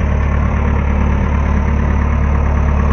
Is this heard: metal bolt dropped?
no